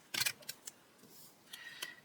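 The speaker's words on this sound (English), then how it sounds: "I might as well just use the tape runner" A tape runner laying adhesive along a slim card edge for a twisted ribbon card, heard as a few short dry clicks and rasps, one brief burst then lighter ticks, close and quiet.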